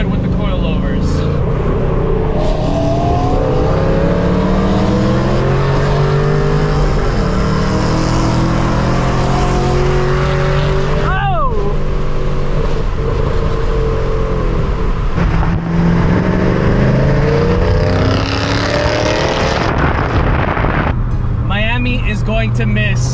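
An aqua blue metallic Chevrolet Camaro SS fitted with coilovers on a drive, its engine droning loudly and continuously as the pitch rises and falls with the revs.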